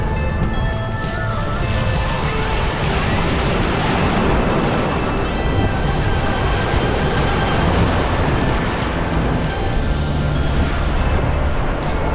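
Strong ocean waves at Paniman Beach roar continuously, a loud, broad wash of surf with swelling crashes and no pauses.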